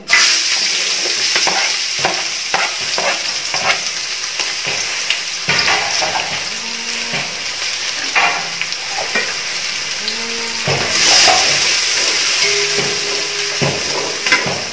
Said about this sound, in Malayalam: നമ്മളെ ഉള്ളി ഫ്രൈ ആയിട്ടുണ്ട്